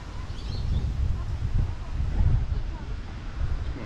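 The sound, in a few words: wind near beach, wind noise on camera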